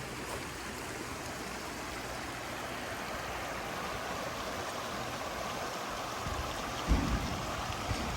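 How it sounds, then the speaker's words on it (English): Steady broadband rush of a flowing river at Hot Springs, North Carolina, continuous throughout with a brief thump near the end. "And here's the river."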